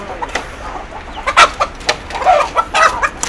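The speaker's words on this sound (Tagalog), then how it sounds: "Ayan, ang mga manok." Chickens cluck nearby in short, irregular bursts in Rosario, La Union, Philippines, several birds calling over a quiet background.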